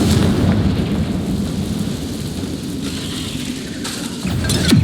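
A Confringo fire spell bursts in Hogwarts Legacy, a loud, dense roar of blast noise that churns continuously throughout and swells again near the end.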